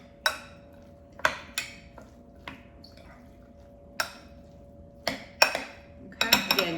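A spoon clinks against a bowl while tuna salad with lemon juice, oregano, pepper and olive oil is stirred, a series of sharp separate taps with soft wet mixing between them, ending in a quick cluster of clinks.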